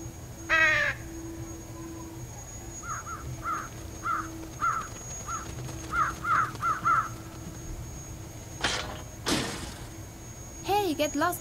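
Crows in the video game Trüberbrook give a run of repeated harsh caws, several short calls in quick succession at mid distance, over a low ambient hum with a few other game sounds.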